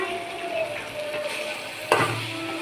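Chickpeas frying in a pan give a steady, close sizzle with faint stirring, broken by a brief sharp clatter near the end.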